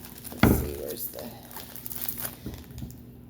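Wrapping paper from a crystal unboxing crinkles and crumples in short bursts close by, with a sharp rustle at the start and softer handling noises after.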